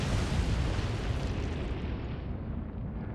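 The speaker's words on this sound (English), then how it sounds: "Third torpedo strike." A torpedo strikes a ship in the naval video game Atlantic Fleet with a loud, broad explosive roar that slowly dies away over a few seconds, heard alone.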